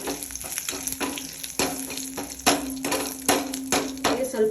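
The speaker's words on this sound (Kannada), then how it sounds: "ರೆಡಿ ಆಗಿದೆ ಈಗ ಒಗ್ಗರಣೆ" Curry leaves and mustard tempering crackle and sizzle in hot oil in a pan for a Kannada ivy gourd chutney, with loud, repeated sharp pops over a steady frying hiss and no talking.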